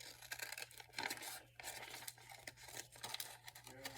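Paper for a handmade journal card being cut with scissors, faint repeated snips and crinkly rustles close by, quiet throughout with no talking.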